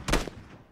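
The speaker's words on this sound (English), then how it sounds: "Gunfire." Gunfire in the video game PUBG: a quick burst of one or two sharp shots that fades fast, heard alone in under a second.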